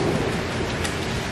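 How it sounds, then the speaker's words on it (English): Heavy rain pouring steadily during a thunderstorm, a dense continuous roar of rainfall close by with a low rumble underneath, no voices. "it's like a straight up thunderstorm"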